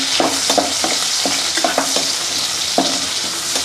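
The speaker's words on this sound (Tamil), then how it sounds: "கருவேப்பிலை போடுறோம்," Curry leaves hit hot oil in a pan and sizzle steadily, with repeated crisp spatters and stirring scrapes throughout; close and clear, no talking.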